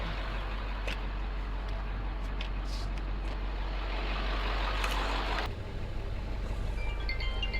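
A tow truck with hydraulic claws backs up, its engine rumbling steadily and loud up close, with a low drivetrain drone that deepens near the end.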